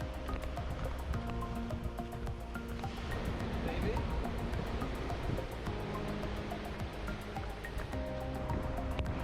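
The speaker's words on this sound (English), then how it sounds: "We started our day in LA by going to a state beach along the Pacific Coast Highway" Steady surf washing ashore at a state beach along the Pacific Coast Highway near LA, where rocks and tunnels line the shore, a continuous even roar with no talk over it.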